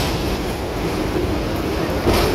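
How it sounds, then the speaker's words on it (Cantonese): Riding a Hong Kong tram from Admiralty toward North Point: a continuous low rumble and rattle of the moving car, steady and close, with no talking. "我哋由金鐘開始搭電車，一路搭落去北角"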